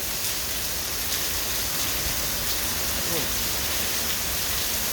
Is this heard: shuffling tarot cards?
no